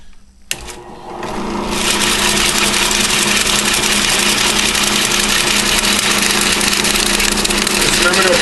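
A shop-made belt sharpening system runs steadily after a brief start, giving a continuous mid-level motor hum with a belt whir that stays even throughout.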